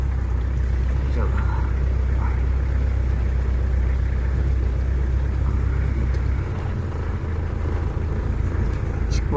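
A vehicle driving through floodwater from the Gamka river flood over a road with a high centre ridge, a loud steady engine rumble with continuous water rush and splashing close by throughout.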